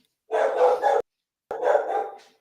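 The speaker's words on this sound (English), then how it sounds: "Sorry, I think my dog's barking." A dog lets out two loud, close barks about half a second apart, separated by a brief silence, with nothing else audible.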